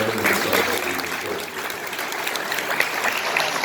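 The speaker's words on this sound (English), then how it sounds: "Big round of applause for our panelists" A room full of people clapping for panelists at a business panel discussion, a dense, fairly quiet patter of applause that continues steadily for a few seconds.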